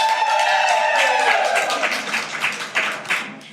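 Podcast audience clapping and cheering in a room, a dense burst of applause that is loudest at first and then thins into scattered claps and a few voices.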